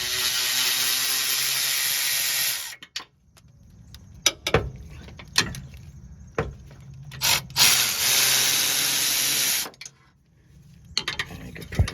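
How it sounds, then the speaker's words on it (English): Ratchet and wrench work loosening 14mm bolts on a Honda Pilot front sway bar link: bursts of rapid ratcheting whir, with scattered metallic clicks and clunks between them, close and moderately loud. "Remove the 14mm bolts."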